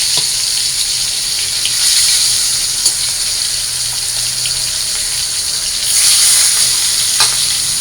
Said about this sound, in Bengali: কড়াইয়ের তেল গরম হয়ে গেছে। এখন আমি মাছগুলো দিয়ে দিই